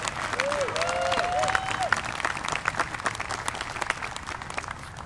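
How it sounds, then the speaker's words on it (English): Applause from a crowd at a campaign rally, steady clapping that gradually thins out, with a voice briefly audible over it. "let's give it one more round of applause"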